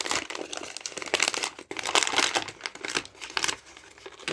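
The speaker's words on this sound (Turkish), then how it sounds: "Hemen o zaman iki numaralı hediyeyi senin için açalım." Close, busy crinkling and tearing of paper and heavy tape as a gift package is unwrapped, with rips and crumpling bursts continuing throughout, no voices.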